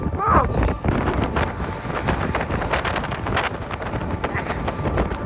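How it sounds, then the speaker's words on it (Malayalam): Strong gusty wind in Almaty, Kazakhstan, roaring and buffeting the microphone continuously, loud and close, with faint talk beneath. "സീന് കാറ്റാണ്, നിൽക്കാൻ പറ്റാത്ത കാറ്റാണ്"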